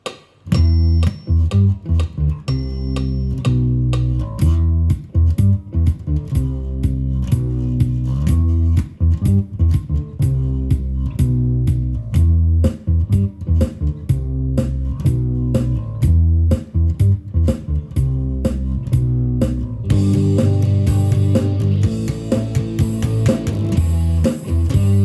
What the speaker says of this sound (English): Here's the backtrack. I'm going to jam with it.